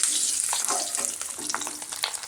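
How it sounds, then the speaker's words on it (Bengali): Dried fish frying in oil with salt and turmeric, a bright dense sizzle and crackle heard close up, steady and fairly quiet, with faint stirring. "ভালো করে মাছগুলো ভেজে নেব।"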